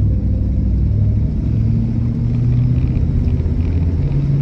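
Low, steady rumble from a 1960 Cadillac Coupe de Ville's engine while driving, a smooth continuous drone with faint road noise and no voices.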